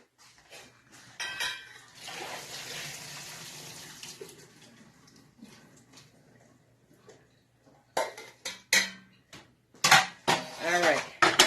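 Cooked noodles are drained from a pot, with metallic clanks and scrapes of the pot and lid around a stretch of rushing, splashing water pouring out, and louder clattering toward the end.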